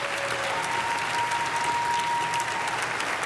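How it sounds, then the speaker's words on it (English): Steady audience applause at a celebrity roast event, a dense, continuous clatter of many hands filling the room without any talking over it. "Give her a round of applause."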